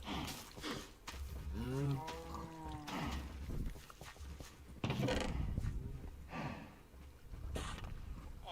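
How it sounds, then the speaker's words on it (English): Cattle mooing together on a farm, several overlapping low drawn-out calls rising and falling across the stretch, fairly close, with some background noise and no talk. "I love the synchronized mooing"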